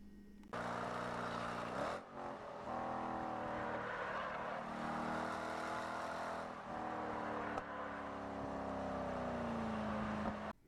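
A race car engine held on throttle at Barber Motorsports Park in a racing video game gives a loud, sustained droning whine whose pitch rises and falls through the corner, then drops near the end.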